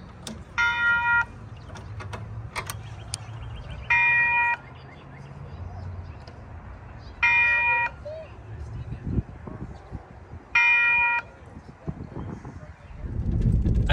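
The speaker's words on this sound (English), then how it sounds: "Here we have a malfunctioning railroad crossing bell that kind of decides its own ring rate." A malfunctioning railroad crossing bell rings in short metallic bursts at uneven intervals, four separate rings with gaps of varying length, over a low background hum and some rumble.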